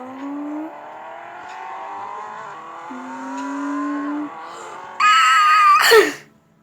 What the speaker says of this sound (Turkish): Drift atmak istedim arkadaşlar